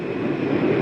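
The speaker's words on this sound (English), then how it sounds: "There's a breathless moment as the big bomber gathers speed. It's airborne." An Army bomber's engines roar as it gathers speed for takeoff from the deck of an aircraft carrier on the Doolittle raid on Tokyo, a dense, steady rumble heard alone.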